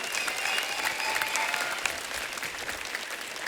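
A studio audience at a television comedy show gives enthusiastic, dense applause that stays loud and steady for about three and a half seconds.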